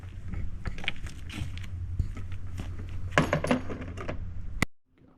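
Metal hardware clinks and rattles with several sharp taps and creaks as a toolbox is lined up, slid into and tightened onto an ARB bullbar accessory mount, ending in a final clank.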